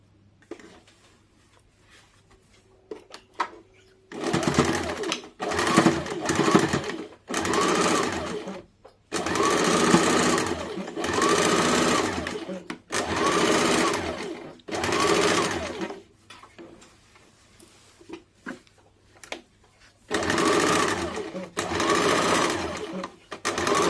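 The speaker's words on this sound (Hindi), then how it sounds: "अब हम लोग दोनों साइड इसको सिल लेंगे" A sewing machine stitches both side seams of a blouse in repeated loud, close bursts of a few seconds each, with short pauses between them.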